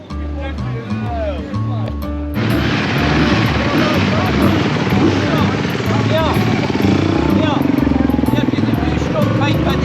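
A four-stroke Honda CRF 250 motocross bike engine drones steadily and loudly throughout a race, revving up after the opening seconds and staying close under wind rush, with a voice talking over it.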